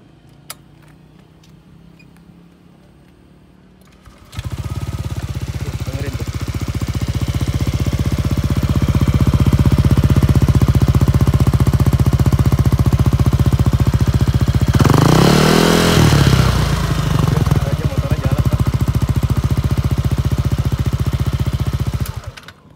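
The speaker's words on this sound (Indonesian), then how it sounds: "buat yang mau tahu suara knalpot robohan anti tilang nih kayak gimana" A loud Yamaha Aerox 155 motorcycle with a modified loud exhaust starts up and idles with a harsh, rumbling exhaust, rising in a sharp rev midway before settling back to a steady roar.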